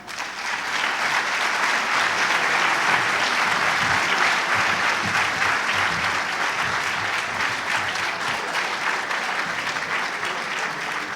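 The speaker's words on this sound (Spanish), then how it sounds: "con un fuerte aplauso a Damián Donnelly." A loud, sustained round of audience applause greets a speaker at a talk, dense steady clapping from a large crowd that continues for over ten seconds without pause.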